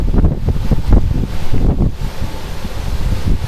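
Storm Kirk's strong wind batters the microphone in Clermont-Ferrand: a loud, continuous low roar that surges in heavy gusts, with no voices.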